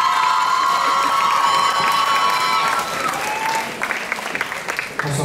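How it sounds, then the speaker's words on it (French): Audience applause and cheering for a Miss Lorraine 2013 pageant candidate, a dense crowd clapping steadily with whoops, thinning toward the end. "sous vos applaudissements"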